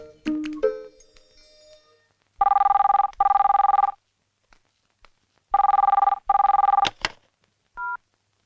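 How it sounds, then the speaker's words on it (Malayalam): An old-style telephone rings in bursts in a domestic scene from a Malayalam film, two double rings separated by a pause, loud and close, following brief clatter, with a short final chirp as it is picked up. "they phone"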